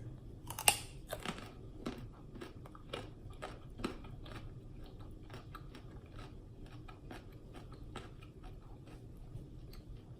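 Someone crunches raw vegetables and chips with an onion thyme dip, steady close bites and chewing that are quiet and intimate, with no talking.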